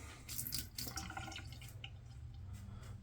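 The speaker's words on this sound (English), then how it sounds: "I'm going to wring my brush out." Water is squeezed and wrung from a badger-knot shaving brush, making quiet splashing and dripping with soft trickles that fade after a couple of seconds.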